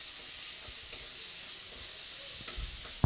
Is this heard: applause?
no